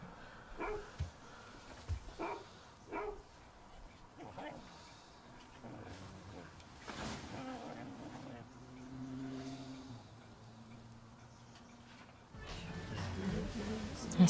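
A dog barks in short bursts and then whimpers, fairly faint, with people talking around it in an indoor scene.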